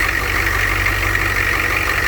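A truck engine idles steadily with a newly fitted exhaust piece, giving a continuous low rumble with a faint knocking pulse, close by and alone.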